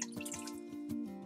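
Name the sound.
water dripping from soaked cloth diaper insert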